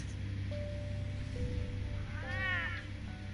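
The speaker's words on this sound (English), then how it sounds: "Oh, Kitty. look who's back." A cat meows in the Batman Telltale Series video game, giving a single clear rising-and-falling meow near the end over a low, steady background hum and soft tones.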